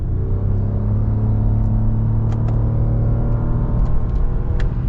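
A 2022 Lexus RX 450h F Sport hybrid SUV heard from inside as it pulls away under hard acceleration, a loud steady engine rumble and whir with faint clicks, no talking.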